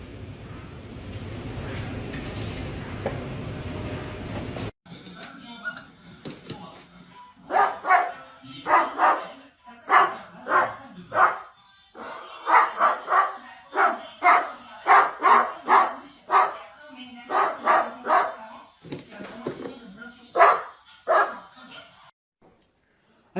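A parrot imitates a dog, giving a long run of loud, close, sharp barks in uneven bursts, some doubled or tripled, after a few seconds of low background noise.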